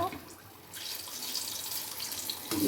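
Chilli bajji fritters frying in sizzling hot oil, a bright steady hiss that swells after a quieter start and carries on close and even to the end.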